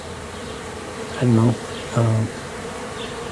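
A honey bee swarm buzzes as it settles into a new hive just five feet from its old spot, a dense continuous drone close to the microphone, with someone briefly speaking over it twice.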